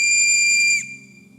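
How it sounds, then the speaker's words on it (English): A single shrill whistle blast rings out loud and close, then cuts off abruptly, leaving faint low background noise. "Blow the whistle."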